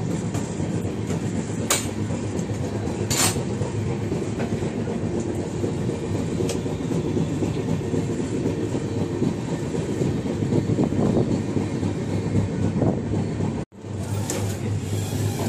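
Inside a premium passenger train on the long journey from Kolkata to Pune, a constant heavy rumble and rattling wheel noise carry on steadily, with a few brief sharper clanks and a short drop near the end.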